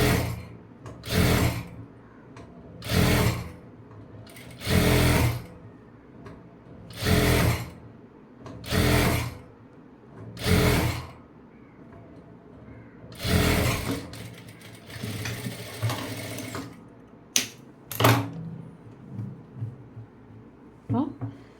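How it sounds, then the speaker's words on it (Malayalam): A sewing machine stitches a twice-folded bottom hem, running in short whirring bursts of a second or so separated by pauses, then a longer stretch of rattling and clicks near the end, with a person talking between runs. "ഇതിൻ്റെ അടിഭാഗം നമുക്ക് മടക്കി തയ്ക്കണം"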